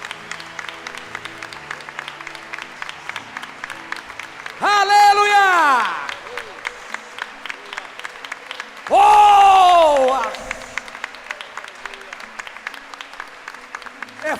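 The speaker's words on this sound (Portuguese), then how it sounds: "Vamos aplaudir nosso Deus." A church congregation applauds at a Sunday evening service, a steady patter of clapping running the whole time while two loud shouted voices break in over it.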